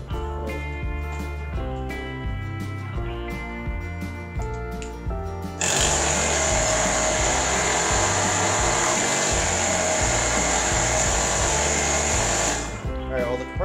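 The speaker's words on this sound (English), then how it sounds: "the compressor blows air" A small air compressor in a jumper pack starts midway and runs with a loud, steady, high-pitched whine and buzz, close up, after a stretch of rhythmic mechanical pulsing and talking, then cuts off near the end.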